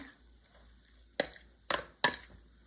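Sauce is stirred into cooked spaghetti squash, giving three soft, wet, squishing scrapes spaced about half a second apart against a quiet background.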